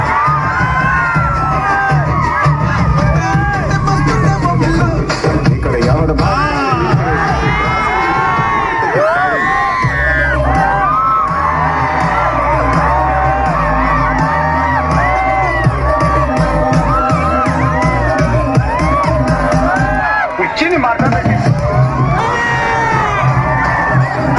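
A large crowd at a live stage event in Ongole cheers, whoops and shouts loudly and continuously, with high-pitched excited voices rising and falling in waves.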